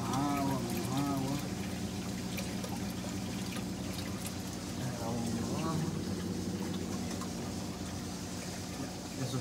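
Water pours and trickles steadily through a Bubble Magus Reactor Mini 80 aquarium reactor, a close, constant splashing flow with a voice talking over it.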